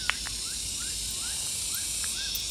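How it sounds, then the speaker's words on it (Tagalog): Insects chirping in overgrown grass along a morning trail to a waterfall, short repeated calls scattered over a steady high buzzing background, fairly close and alone without talk. "huni ng kuliglig"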